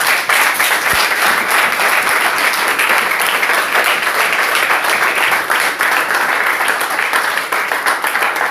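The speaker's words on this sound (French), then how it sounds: "Applaudissons pour le Seigneur." Sustained applause from a large church congregation, dense continuous clapping at a steady loud level throughout.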